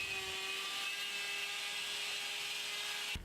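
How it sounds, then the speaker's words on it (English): A Bosch GKS 12V Li cordless circular saw with an 85 mm thin-kerf blade spinning at 1400 RPM cuts steadily with a high, continuous whine, close and loud, then stops abruptly at the end. "The blade spins at 1400 RPM, hence the fast cutting, and it comes to an instant stop when you release the trigger."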